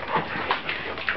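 A dog whimpers softly in a few short, high whines, close and quiet.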